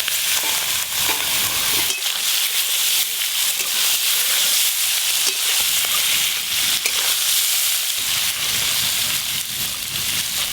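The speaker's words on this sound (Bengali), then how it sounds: "ওই একই তেলে গলদা চিংড়ি মাছগুলো ভালো করে ভেজে নেব।" Giant river prawns rubbed with salt and turmeric fry in a pan of hot oil, giving a steady, loud, close sizzle with bubbling hiss that runs unbroken the whole time.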